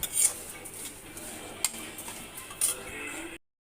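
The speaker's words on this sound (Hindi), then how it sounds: "देसी घी में मैं ये जवे भून रही हूँ।" Sweet vermicelli (jave) roasting in desi ghee, stirred in a pan, giving faint scraping and light metallic clinks of a utensil against the pan, with a few brief sharper taps.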